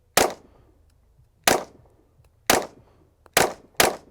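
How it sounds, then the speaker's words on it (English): Zev V2 Pro 9mm pistol fitted with a compensator fires five sharp, loud shots at uneven intervals, each with a short ringing decay, with quiet gaps between and no talking. "let's see if we can get maybe a little bit better grouping here on these next couple shots"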